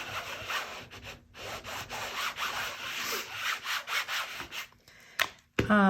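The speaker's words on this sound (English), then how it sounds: "And then I'm just gonna rub back over this again." Hand rubbing back and forth over an embossing folder on inked cardstock, a close, continuous scratchy rasp in rapid strokes with brief pauses.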